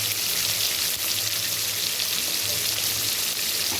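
Fish curry in oil bubbling and sizzling steadily in a pan, a dense continuous crackle with no pauses and no voices.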